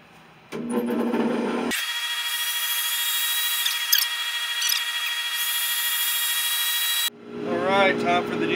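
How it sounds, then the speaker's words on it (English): A power sander whirs steadily against a black cherry wood bowl being finished on the lathe, a loud continuous hum with faint rubbing shifts, starting abruptly and cutting off after several seconds, bracketed by brief background noise. "then I'm using power sanding for this one"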